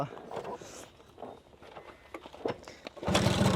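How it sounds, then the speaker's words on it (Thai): A two-stroke motorcycle engine sputters through a few uneven bursts and then catches, ending in a loud, steady buzzing idle at close range, with faint talk in the background. "ต้องสองจังหวะเท่านั้นนะครับที่จะมีเสียงนี้"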